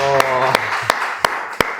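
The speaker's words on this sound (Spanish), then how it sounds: "un fuerte aplauso aquí" A studio audience on a talk show gives a few sharp, evenly spaced claps. A voice speaks briefly at the start.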